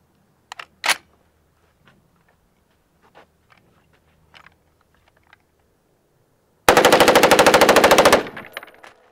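A Vietnam-era M14 rifle firing .308 rounds lets off one loud, rapid burst of closely spaced shots lasting about a second and a half. Faint clicks and handling noises come before it, against an otherwise quiet background.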